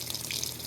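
Cold water sprays steadily into the tub of a Maytag Atlantis washing machine, a brief continuous hissing rush with no pauses.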